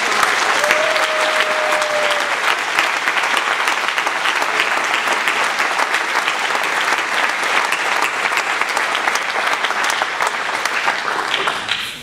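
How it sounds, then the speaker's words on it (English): A warm round of applause from a gala audience at a Whitman-Walker fundraising event, sustained dense clapping that holds loud and constant, tapering slightly at the very end. "Please give a warm round of applause."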